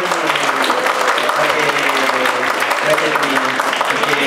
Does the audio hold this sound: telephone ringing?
no